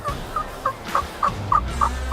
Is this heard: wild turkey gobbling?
yes